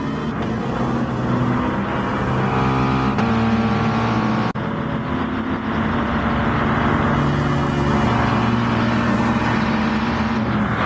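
A race car engine drones steadily in a Gran Turismo Sport FIA online race, with loud continuous whine and a couple of brief shift breaks, alone without talk.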